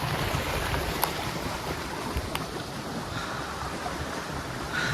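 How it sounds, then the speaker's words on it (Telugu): Rushing water at the Ubbalamadugu waterfall, a steady broad roar heard on a hillside trek, with gusts of wind buffeting the microphone and a few sharp knocks. "చూడండి వాటర్ ఫాల్స్"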